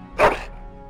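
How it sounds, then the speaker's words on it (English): A single loud, close dog bark in a video game, one sharp woof that fades quickly over a quiet background hum. "That is a wonderful dog."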